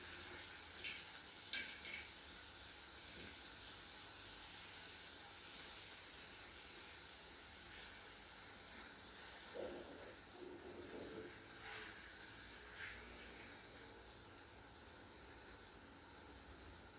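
Turkey meat for a vegetable tajine with potatoes and olives sizzles in a pan while it is turned, giving a faint, steady hiss with a few soft scrapes and clinks.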